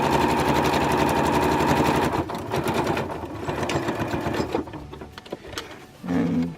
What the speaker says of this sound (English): now I'm going to stitch along here